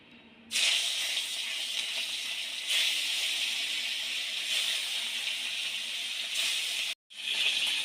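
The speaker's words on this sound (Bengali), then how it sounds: "মাখানো হয়ে গেছে, এবার মাছগুলোকে আমি ভেজে নেব।" Turmeric-coated fish frying in hot oil in a pan, a loud continuous hiss and sizzle that starts abruptly, swells in a few surges, cuts out briefly near the end and then resumes.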